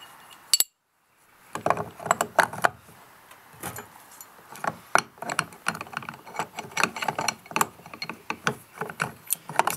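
Trans-axle differential spider gears being reassembled into a locker: steady close-up metallic clinks, taps and scrapes of parts being fitted together, irregular and fairly quiet, with no talking.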